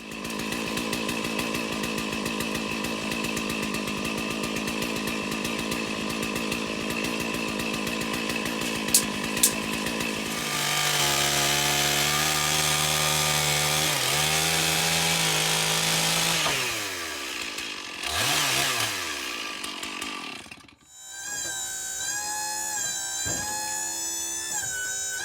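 A chainsaw roars loudly and steadily, its pitch dropping and rising as it bogs into a scrap log, then revs briefly near the end.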